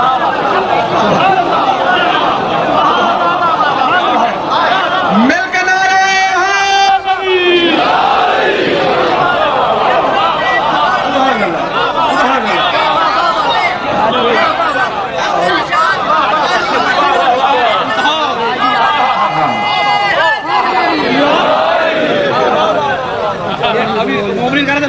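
A crowd at a religious majlis gathering shouts slogans together in loud, unified bursts. Chanted calls rise and fall over a continuous murmur of voices, with the strongest bursts coming near the start and again later on.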